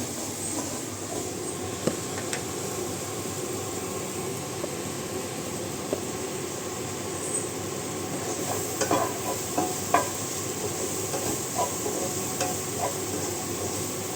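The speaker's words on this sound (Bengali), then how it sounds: "মাশরুমগুলো একটু কষানো হয়ে গেছে।" Mushrooms stir-fried in a pan for a Bengali cholar dal with mushrooms, a steady broad sizzle with occasional scraping stirs and small clicks, close and constant, no voices.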